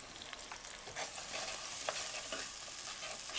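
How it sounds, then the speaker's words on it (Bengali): Ginger paste, garlic paste and cumin powder with salt frying in a pan for a radish dish, a steady close hiss of hot oil with faint soft stirring scrapes, continuous and without speech. "সব মশলা দিয়ে বেশ কিছুক্ষণ এটাকে কষিয়ে নিতে হবে"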